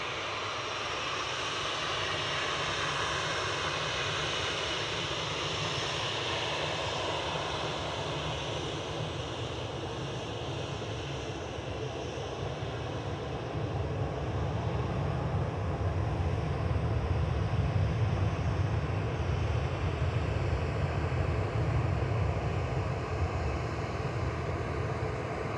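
A Ryanair Boeing 737-800 departing Manchester Airport for Belfast gives a steady, broad jet roar that builds slightly louder midway, heard at a distance with wind-like hiss and no talk.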